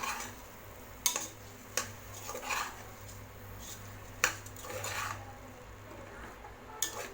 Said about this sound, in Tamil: அரிசி போட்டு நான் நல்லா மிக்ஸ் பண்ணி விட்டுட்டேன்